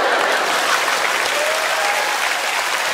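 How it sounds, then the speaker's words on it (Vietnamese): Sustained audience applause for a player being welcomed on stage in a Vietnamese comedy game-show sketch, a dense wash of many hands clapping at an even, loud level with no talk. "xin mời một tràng pháo tay cho người chơi Hứa đang lên"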